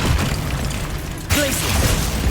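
In Hogwarts Legacy, the Accio summoning spell goes off with a sharp whooshing burst partway through, followed by a brief rising tonal shimmer over steady game ambience.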